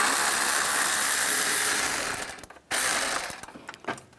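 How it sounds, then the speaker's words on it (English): A ratchet with a 10mm socket turns a bolt on a 1997-2001 Honda CR-V during radiator cooling fan removal, giving a steady fast clicking that runs for about two seconds, then breaks off and resumes in short bursts, close up. "Now use a 10mm socket."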